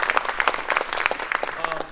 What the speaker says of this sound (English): So please give Joe a big round of applause.